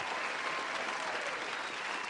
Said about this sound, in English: let me give you another round of applause here